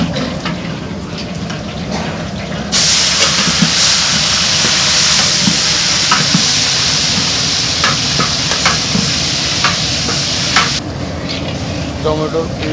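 Khichuri with bay leaves and chilli cooks in a big pot as a temple offering for Jagannath; a loud, steady hiss of steam and sizzle swells for about eight seconds amid clattering stirring, with faint voices in the background.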